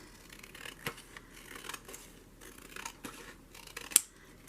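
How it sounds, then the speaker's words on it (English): Quiet scissors snip through paper while trimming a glue book page, giving a series of soft, irregular cuts with small rustles between them and one sharper click near the end. "I might have to trim that a little bit without cutting off any of the words"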